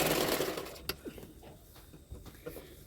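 A sewing machine stitches layered katori pieces for a 34-size double katori blouse, starting with a brief, fast run of needle chatter up close, then dropping to faint scattered clicks and handling taps.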